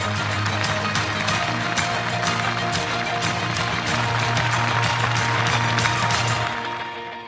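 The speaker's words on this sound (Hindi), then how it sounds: "आइए जोरदार ताली से अभिनंदन करें" Crowd clapping at a ceremony inaugurating development centres: a dense, continuous patter of many hands over a steady low hum, holding at one level before tapering off at the very end.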